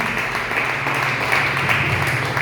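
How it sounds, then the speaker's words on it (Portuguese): Church congregation applauding during a communion service, a steady, even wash of many hands clapping that holds at a constant level throughout with no voices. "aplauda o nome do Senhor"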